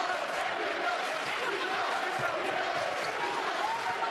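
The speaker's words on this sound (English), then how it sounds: "Very enthusiastic Green Bay cheering section at the Milwaukee basket." A Green Bay cheering section in a basketball arena during a Milwaukee versus Green Bay college game keeps up a steady roar of crowd noise, with broad, constant cheering filling the space.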